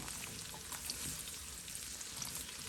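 Tinda (apple gourd) pieces frying in a pan over medium heat, giving a steady, moderately faint sizzle with soft crackling pops throughout and no talking.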